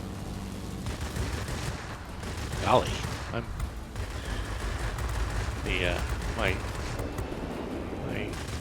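Aircraft cannon fire in the World of Warplanes video game rattles in short bursts over a constant engine drone, with someone talking over the action.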